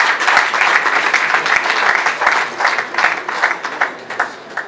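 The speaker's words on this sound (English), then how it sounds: "we should give a special applause to all those Austrian participants" A conference audience gives sustained applause for Austrian participants, a loud, even patter of many hands that gradually thins toward the end.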